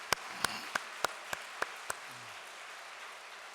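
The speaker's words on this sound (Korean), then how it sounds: "다시 한번 감사와 영광의 박수를 보내십시다" A church congregation claps in thanks during a welcome address: about seven sharp, evenly spaced claps, faint and distant, then fading into quiet room tone.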